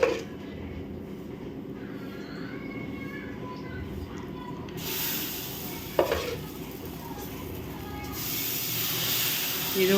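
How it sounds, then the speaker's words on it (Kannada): Batter made from red and black rice sizzles as a dosa fries on a hot pan: a steady, close hiss and crackle throughout, which swells partway through and is broken by one brief tap. "ಅದು ದೋಸೆ ಮಾಡ್ತಾಯಿದ್ದೀನಿ."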